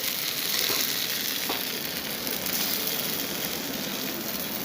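Elephant foot yam slices shallow-frying in oil in a pan, a continuous bright sizzle with a steady crackle, close and even, with no talking.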